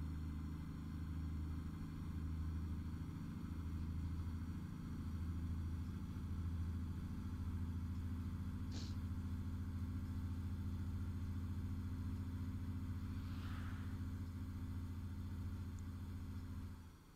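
Truck engine in the video game Alaskan Road Truckers, in winter, running steadily throughout with a low, throbbing idle-like drone, loud and continuous, with no talk.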